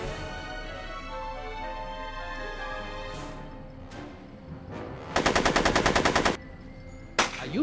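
Gunfire in the Back to the Future video game: a single sharp shot, then a fast, loud burst of rapid automatic fire lasting about a second, followed by another lone shot, all over a soft sustained musical score, with no speech.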